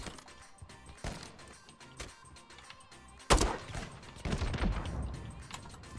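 Sniper rifle shots ring out in a Call of Duty MWZ zombies match, a few sharp cracks spaced apart with a louder blast midway, over busy game ambience.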